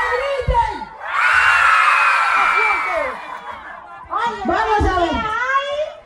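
A crowd of people shouts and cheers loudly in response to a call for a bicycle raffle, two sustained bursts of excited yelling and whoops separated by a brief lull.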